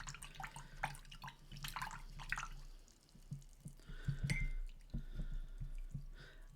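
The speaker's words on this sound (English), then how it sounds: "So we're going to rinse out our brush" A paintbrush is rinsed in a water cup during acrylic painting, giving soft clinks, drips and swishing against the container, close and quiet, with scattered small taps throughout.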